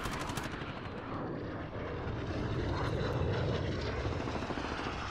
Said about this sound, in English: His VTOL hasn't even come down yet.